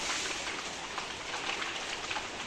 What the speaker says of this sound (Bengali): এই যে বৃষ্টি থামছে